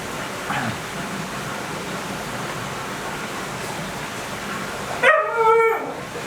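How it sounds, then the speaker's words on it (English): A husky that has just woken gives a short, high whimpering yelp near the end, following several seconds of steady background hiss with little else. "I think my husky's just woken up"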